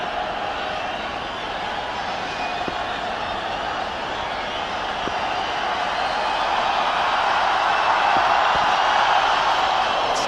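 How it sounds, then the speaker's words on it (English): A large cricket stadium crowd murmurs and hums steadily while awaiting Sachin Tendulkar's innings at an India versus Australia one-day international, a broad distant roar that swells slightly toward the end, with commentators talking over it. "You can hear the crowd waiting in anticipation."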